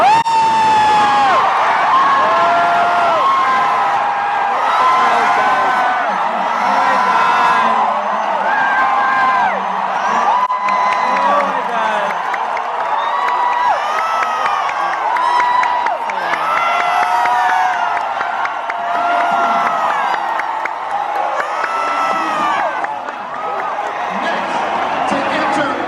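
A large, continuous crowd cheers, screams and whoops at the 2016 Miss Universe coronation night as the Philippines advances to the next round, loud and sustained throughout with shouting voices layered in.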